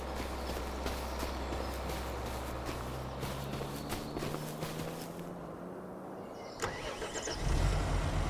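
Footsteps crunching over ground in Farming Simulator 25, followed by a tractor engine starting with a low rumbling turnover near the end, close and loud.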